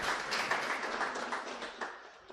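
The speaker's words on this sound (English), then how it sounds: "Let's clap for them." Audience applause at a weekly press and public engagement event, a steady dense wash of many hands clapping at moderate level, tapering slightly toward the end with no voices over it.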